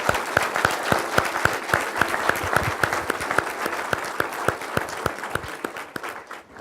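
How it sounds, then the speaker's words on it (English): Audience applause at a university alumni recognition ceremony, a dense steady round of clapping from a hall full of people, with a few nearby hands standing out crisply, fading slightly at the very end. "Please, a round of applause for Dr. Kondrashova."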